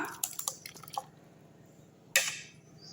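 Ground sugarcane pulp and juice being strained at home, giving soft wet drips and squishing sounds in a quick cluster, a quiet gap, then another brief splashy burst near the end.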